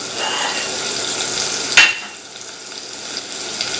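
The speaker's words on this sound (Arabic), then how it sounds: "هنزل بمعلقه بصل اهي ونقلب مع بعض" Onion sizzles in a pot while being stirred for a mushroom soup: a steady hiss with a sharp spoon scrape against the metal midway, then quieter frying.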